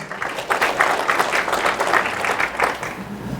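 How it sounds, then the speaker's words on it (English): A short burst of audience applause at a company rookie training session, moderately loud with an uneven, pulsing clap texture that rises quickly and holds. "Give him a big round of applause."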